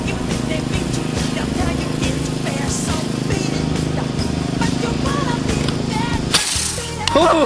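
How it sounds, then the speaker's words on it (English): A homemade CO2 dragster car, the hearse-like Black Death Mobile, bursts apart in a parking lot: a sharp crack cuts through steady outdoor rumble near the end, followed by a second quick snap and a brief bright rattle. "And we're just gonna try to explode it."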